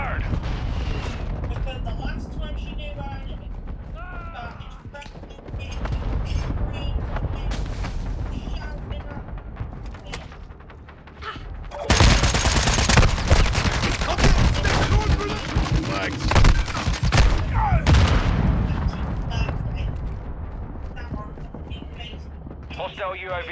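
Hostile mortar strike in a shooter game: repeated heavy booming impacts and rattling gunfire, growing louder and denser midway, under announcer-style voice callouts.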